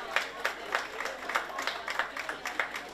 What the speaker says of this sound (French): rien que pour ça, on peut l'applaudir, hein,